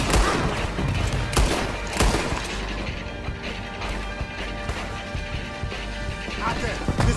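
Gunfire erupts in Red Dead Redemption 2 during an attack on a tower, with repeated sharp shots and bursts crackling through a busy battle scene, loud and close, mixed with clanking and crashing effects and voices.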